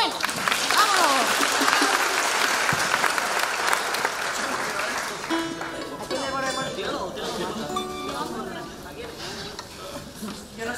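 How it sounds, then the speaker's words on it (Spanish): Loud audience applause at a women's university tuna performance in Málaga, a dense burst of clapping and crowd noise that fades as string instruments and singing begin. "vamos a dar un fuerte aplauso de los buenos"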